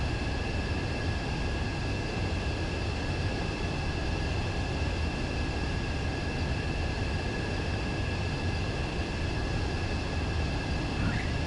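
An aircraft in a PS4 video game approaches a runway as a steady, unbroken roaring jet drone with high whining tones held over it. The sound stays at an even level throughout, and no one speaks.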